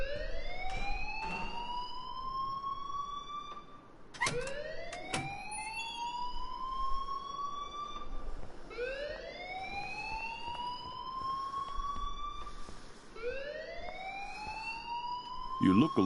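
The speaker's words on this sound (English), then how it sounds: "please turn off that alarm since that's your job" A blaring fire alarm in the Life Is Strange Remastered video game, sounding as a repeated rising siren-like wail in cycles of about four seconds, loud and continuous, with a few sharp clicks mixed in.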